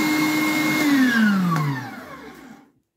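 SilverCrest electric meat mincer running, a loud motor whine that sinks in pitch as the load changes, then winds down and stops near the end.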